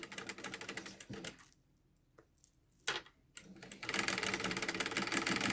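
A sewing machine stitching ribbons in place, running forward and then in reverse over the same seam: fast rapid clatter, a pause with faint handling, a brief burst, then renewed steady stitching, close and clear.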